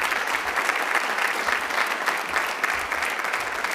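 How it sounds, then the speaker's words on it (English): Sustained applause from an audience at a high school senior honors night, a dense steady patter of many hands clapping without pause. "Please give them a round of applause."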